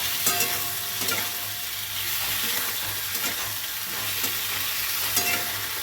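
Chilli paneer sauce with tomato ketchup and soy sauce is stirred in a hot pan, a steady close sizzle and frying hiss with scraping stir strokes throughout, no voices.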